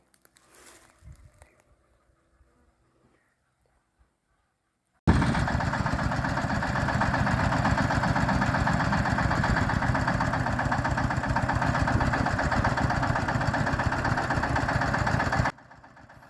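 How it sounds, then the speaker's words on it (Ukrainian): After several seconds of near silence, a small tractor engine fitted with a rotary tiller abruptly starts up and chugs at a steady, rhythmic idle for about ten seconds before cutting off. "Наступного дня приїхав міні-трактор з фрезою"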